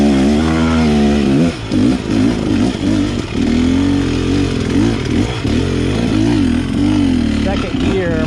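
An X-Trainer dirt bike engine revs hard in second gear on a climb, with a loud buzzing drone that rises and wavers as the throttle and clutch are worked, heard up close.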